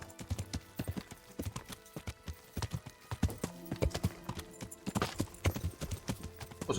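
Horse hooves clip-clop in steady, brisk rhythm in the medieval game Kingdom Come: Deliverance, crisp close-up hoofbeats with faint tack and ambient sounds beneath.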